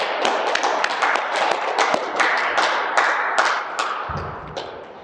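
A group clapping in unison during a yoga session, a steady run of sharp, fairly close hand claps for several seconds before it thins out near the end.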